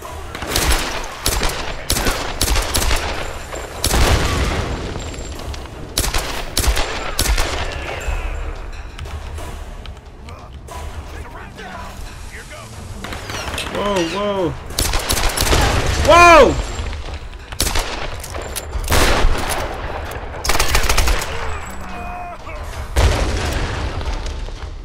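Gunfire from the video game Tomb Raider: rapid bursts and heavy booming shots cut in repeatedly over a continuous game soundscape, loud and close, with a voice talking at moments between the shots.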